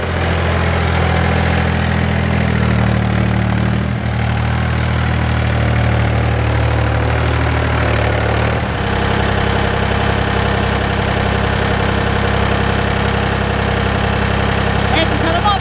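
A farm tractor engine idles steadily with a low, even rumble throughout, its tone shifting slightly partway through, while people talk over it.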